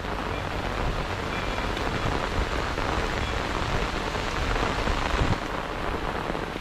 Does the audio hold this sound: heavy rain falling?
yes